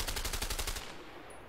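A rapid burst of gunfire from a gun in the video game A Way Out, fast, evenly spaced shots rattling for under a second and then cutting off into quiet room tone.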